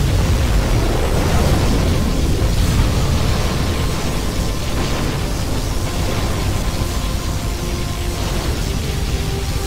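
A particle cannon blast in C&C Generals Zero Hour rumbles as a loud, sustained roar of explosive noise, dense and broadband throughout, with no voices over it.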